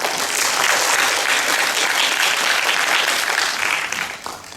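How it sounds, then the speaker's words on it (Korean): A staff audience at a labor-law lecture gives a lecturer a warm welcome, with dense, sustained clapping from a full room that fades out toward the end. "박수로 맞이해 주시기 바랍니다."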